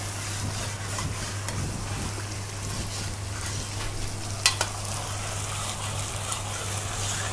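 Sea bass in spice paste fries in a Buffalo wok with a steady, dense sizzle and occasional spatter pops, close and continuous over a low hum.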